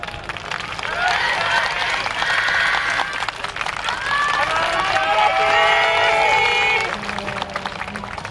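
Crowd cheering and clapping at the Sendai Michinoku YOSAKOI festival 2024 city square stage as the Aomori Hanaarashi Sakura-gumi dance team is introduced, applause blending with high shouts and an announcer's voice.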